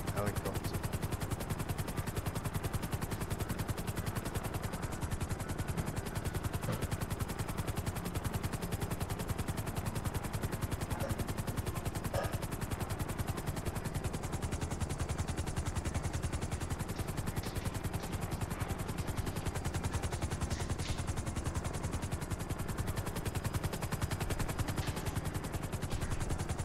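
Helicopter in GTA V, a steady loud rotor thrum with rapid chopping pulses running unbroken throughout.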